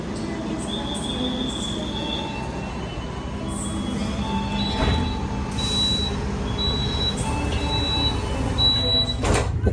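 A passenger train pulls away from Kroya station in Java, with a steady rolling rumble and high wheel squeals and tones rising intermittently over it, heard from inside the carriage.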